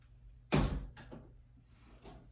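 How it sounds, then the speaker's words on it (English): A house door shuts with a sharp thud, followed by a couple of softer knocks and rattles from the latch settling, close and fairly quiet in an indoor room. "Hang on, let me close this door."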